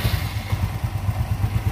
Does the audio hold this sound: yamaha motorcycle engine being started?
yes